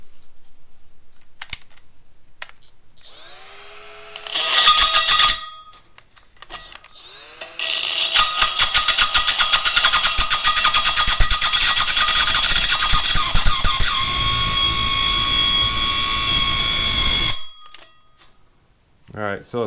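A Milwaukee M12 die grinder fitted with a rasp bit spins at 10,000 RPM, first in a short burst, then in a long, loud, steady high-pitched whir with grinding chatter before cutting off.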